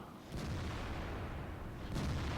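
The main gun of a 112 Chinese tier 8 premium heavy tank fires in World of Tanks: two heavy booms about a second and a half apart, set against a constant low engine rumble.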